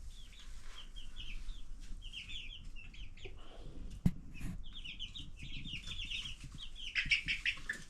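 Baby chicks on a scrap wood roost chirp and cluck in repeated bright bursts, with a sharp knock and some wing flutter partway through, close by and without speech.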